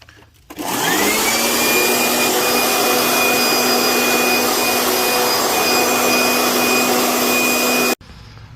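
A leaf blower runs at a steady, loud roar on outdoor concrete pavers, blowing loose joint sand across them. It starts up near the beginning with a rising whine, holds constant, then cuts off abruptly near the end.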